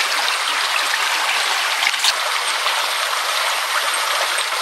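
Water flowing from a natural spring in Surigao del Norte, a loud, continuous rushing hiss that stays close and even throughout.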